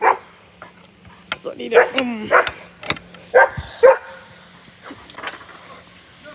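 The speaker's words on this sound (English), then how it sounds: "No barking. No barking." A dog at home gives several sharp close barks and yips, with brief whimpers between them, while a person speaks briefly.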